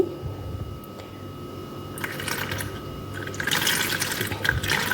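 Milk poured into a bowl of lukewarm water for Arabic fatayer cheese bread dough, a soft liquid splash and trickle close by that grows fuller and louder toward the end, with no talk.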